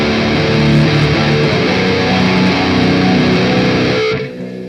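Heavily distorted electric guitar chugs power chords in a rhythm, loud and dense with a steady pulse, before cutting off abruptly near the end.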